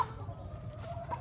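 Soft clucking from a rooster, low and continuous, with a faint brighter call near the end; no voices.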